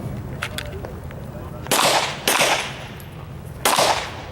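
Three loud, sharp pistol shots crack at an IDPA shooting match at Mecklenburg Wildlife Club, spaced irregularly over a few seconds, each with a quick decay over a low steady background hum.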